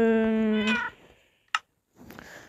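A single drawn-out cat meow, close and clear, followed by a brief click and a soft second vocal sound after a pause.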